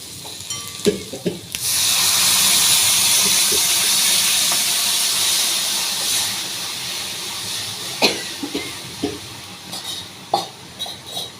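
A pot of drumstick sambar with tamarind and asafoetida boils, a broad steady bubbling hiss with occasional clinks and stirring knocks, fading as the pot settles near the end.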